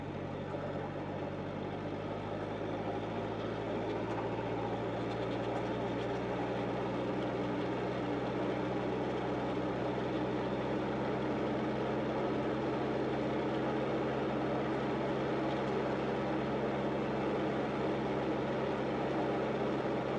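A Ferguson tractor engine drones steadily in road gear, a constant loud low rumble with an even hum that holds for the whole stretch, close and without talk.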